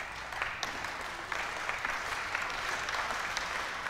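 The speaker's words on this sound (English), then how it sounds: "The claps start in this packed final hall" Clapping from the audience in a packed final hall at an Asian airgun shooting championship, a steady, moderately quiet patter of many hands with a few sharper individual claps, slightly distant and continuous.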